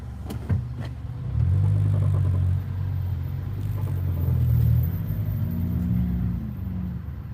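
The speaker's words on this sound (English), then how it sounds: "It's just fun bumper to bumper traffic. One lane." Steady low car-engine rumble from bumper-to-bumper traffic in a single lane, a continuous drone of idling and creeping vehicles with slight swells, close and moderately loud, no talking.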